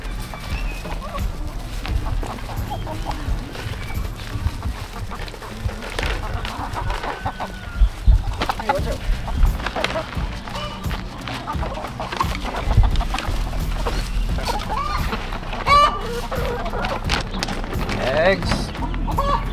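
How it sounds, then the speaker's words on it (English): Chickens cluck excitedly over scattered mealworms in a farmyard, giving dense overlapping clucks and squawks throughout, with hoof clops and a horse's whinny nearby and someone talking at times. "Watch these chickens go fucking crazy."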